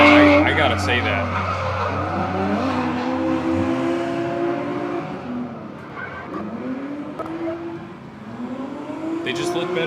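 Corvettes drifting at a live event with loud, continuous tire squeal and engine revving, the screech rising and falling in long sweeps; a voice talks over the noise.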